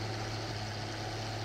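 A CBT 8060 tractor engine in the video game Farming Simulator, a steady low diesel drone with a constant hum, close and unchanging throughout, alone with no talk.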